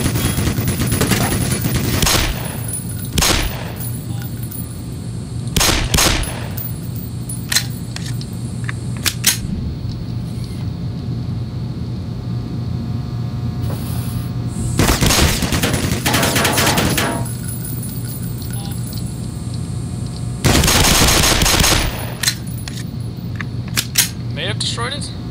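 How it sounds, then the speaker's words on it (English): Automated sentry turrets in the Black Mesa office complex open fire in several loud, broadband bursts of rapid gunfire, some brief and some lasting a couple of seconds, separated by quieter stretches with a steady low hum. "I completely forgot about these sentry turrets."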